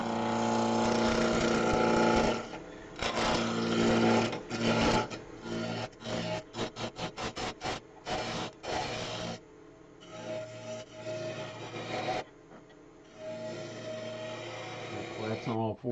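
A chisel cuts a long-stemmed wooden goblet spindle spinning on a lathe, giving loud rasping, scraping bursts. Some cuts are long and steady, others come as quick repeated strokes, with brief pauses between them.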